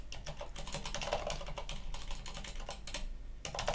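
Computer keyboard typing commands on a Linux system, a fast continuous run of close keystroke clicks over a low background hum, without speech.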